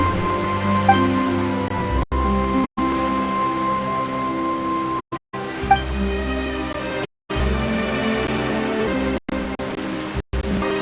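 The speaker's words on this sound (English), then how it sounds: "Why is it raining all of a sudden?" Steady rain pours down in a video game scene, a dense even hiss that runs throughout with a few abrupt cuts to silence, no voices.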